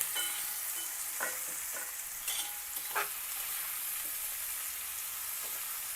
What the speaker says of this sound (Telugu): ఇలా స్ప్రెడ్ చేసుకుని ఒక మీడియం ఫ్లేమ్లో పెట్టి వేయించుకోవాలి